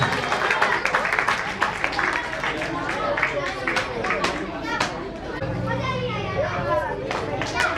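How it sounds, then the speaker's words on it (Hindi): Clapping from an audience at a prize-giving ceremony in Kanpur for a constitution general-knowledge quiz, sustained and fairly loud, mixed with chatter and children's voices and dipping slightly before picking up again. "जोरदार तालियों से स्वागत"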